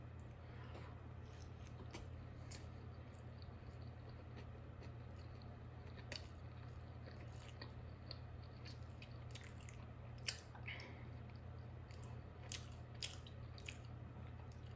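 Someone eats a Burger King Philly Melt sandwich with crisp, crunchy bread: soft, close biting and chewing with occasional crunchy clicks and wet squishes over a steady low hum, without speech.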